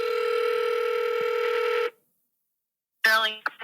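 A telephone line carries a steady, loud call tone for nearly two seconds before going silent. A voice answering the call then comes through the line.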